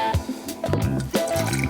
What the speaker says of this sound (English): Into a shaker, add 20 ml of bourbon